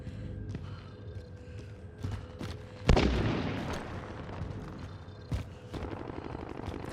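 A gunshot burst in Call of Duty Warzone (Cold War era, FFAR and Famas loadout), one loud crack with a decaying rumble, then scattered distant shots over low game ambience.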